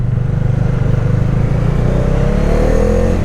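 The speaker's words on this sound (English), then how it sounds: "the bike had arrived in Colombo and I've sat on the bike for the first time." A Bajaj Dominar motorcycle engine runs close by in Colombo, Sri Lanka, with a steady loud drone and a rising rev toward the end, no voices.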